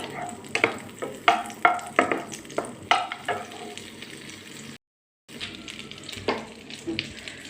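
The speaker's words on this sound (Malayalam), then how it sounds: "ബട്ടർ ഒന്ന് മെൽറ്റാവട്ടെ" Butter sizzles in a pan as a spoon scrapes and stirs it in quick repeated strokes, broken by a brief silence before the stirring and sizzling pick up again.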